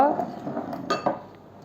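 Fenugreek seeds pour into a steel vessel with a quick, bright metallic rattle and clink. A couple of sharper pings follow before it fades, with a voice faintly audible.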